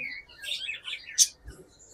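Budgerigar parakeets kept with their chicks and eggs give a few bright, quick chirps and tweets close by, scattered over two seconds with one sharper, louder call near the middle and no voices.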